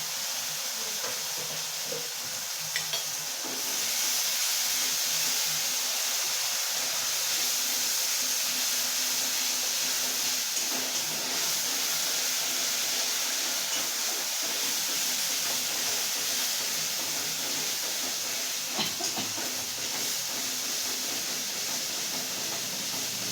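An onion, ginger and green chilli paste sizzles steadily in a hot pan while doi katla is being cooked, a close, continuous loud hiss that holds its level throughout with a few faint clicks.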